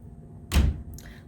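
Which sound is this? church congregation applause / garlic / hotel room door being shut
hotel room door being shut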